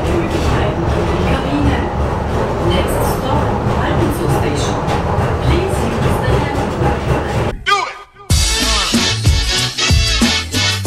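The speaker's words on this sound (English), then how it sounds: "The train stops at every station." The Nordkettenbahn funicular in Innsbruck rumbles and clatters steadily for several seconds, then cuts off, with people talking over the noise.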